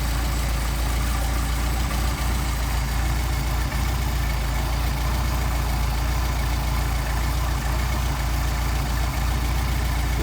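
A Mercedes 190SL engine fitted with Solex carburetors runs at a steady idle, a constant low mechanical drone with even pulsing, close and continuous, with no voices.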